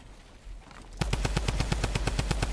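Rapid automatic gunfire in the video game Fortnite, a steady burst of evenly spaced loud shots starting abruptly after a quiet second and running to the end, with no voices over it.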